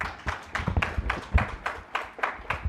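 Applause for an executive director at an event marking the International Day to End Impunity for Crimes Against Journalists: scattered, uneven clapping from a small crowd, a few hands striking irregularly over a couple of seconds.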